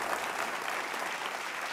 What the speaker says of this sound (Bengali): সবার জন্য একটা জোরে হাততালি হয়ে যাক।